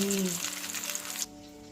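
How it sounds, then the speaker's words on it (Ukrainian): Oil sizzles and crackles steadily as zucchini fries in a pan for about a second, then cuts off abruptly, with a low hum underneath. "Смажимо до золотавої скоринки"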